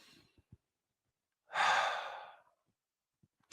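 A single deep, audible breath, a long rushing inhale lasting about a second, close and fairly loud, set between quiet pauses with a few faint small noises before and after; no talking.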